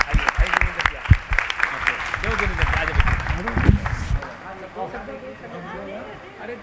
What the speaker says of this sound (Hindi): एक बार इनके लिए तालियां बजाएं